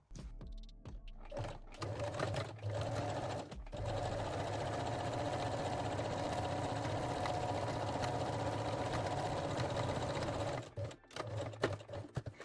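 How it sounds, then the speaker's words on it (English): Sewing machine running a zigzag stitch along the leg openings of lace-back Brazilian panties, a steady close whir for about nine seconds with brief start-stop bursts at each end. "sew the leg openings. I will use the zigzag stitch"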